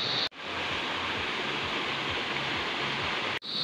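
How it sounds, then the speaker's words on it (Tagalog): A clear stream babbles over large rocks at the Tala Amara resort, a steady, full rush of flowing water heard close and alone, cut off abruptly at the start and end. "Puro lagaslas lang ng tubig at mga huni ng mga kulisap yung naririnig natin sa paligid."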